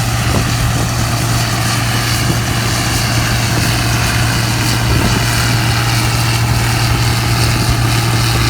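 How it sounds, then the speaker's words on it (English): A neighbor's small tractor pulling wagons past a bean field, its engine a steady, loud, droning rumble that holds unchanged throughout with no voices. "He's coming up behind me on his little tractor right there in his wagons."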